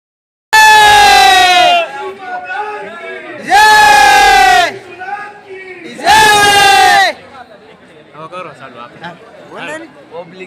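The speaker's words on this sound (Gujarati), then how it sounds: "અહીં ઉજ્જૈનમાં ભીડ છે બહુ જ હોય છે" A crowd at the Kal Bhairav temple in Ujjain raises three loud, drawn-out collective shouts or chants, each cutting off sharply, with quieter murmuring and scattered voices between.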